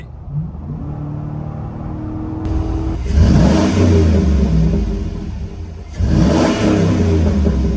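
A 2005 GMC Yukon engine revs hard through a deep, throaty Flowmaster cat-back exhaust, roaring up in two loud bursts over a steady rumbling idle.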